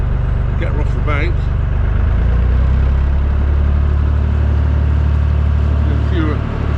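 A narrowboat engine rumbles low and steady on a canal, rising slightly as it revs, with a voice talking over it near the end.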